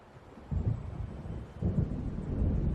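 Thunder rumbles from an approaching storm in the video game Alan Wake, two deep rolling booms swelling one after another over a low windy rain background, with no talk.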